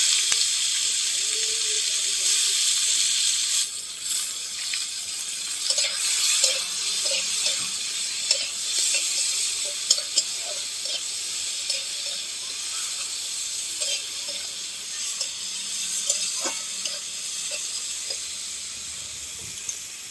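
Onion frying in a hot pan for a fish curry with cabbage, a steady close hiss and sizzle with small crackling pops scattered throughout, no voices.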